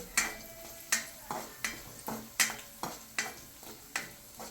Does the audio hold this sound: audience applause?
no